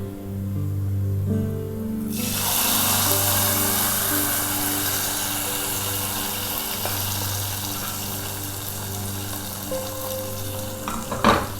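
Hot fried garlic tempering, with dried red chillies, hits tomatoes for a chutney, setting off a sudden loud sizzle that bursts up and then settles into a steady crackling fry with a few clinks near the end.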